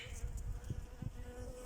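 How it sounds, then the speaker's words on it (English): Bees buzz among blossoming fruit trees in a UK garden in May, a faint, continuous hum with a few brief, louder passes close by. "There are bees everywhere"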